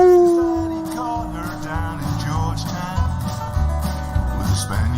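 A drawn-out howl sliding downward in pitch, apparently a voice imitating a wolf, opens loud and then fades under a busy musical backing with a steady beat.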